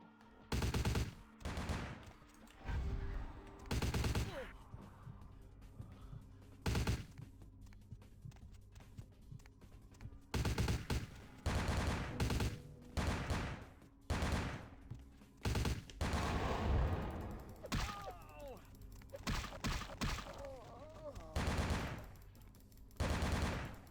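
Repeated bursts of gunfire in Vampire: The Masquerade - Bloodlines, sharp volleys and rapid fusillades spread across the scene with short gaps, loud and close, with some footsteps in between.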